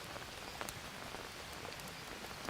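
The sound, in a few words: rain hitting the leaves in a video game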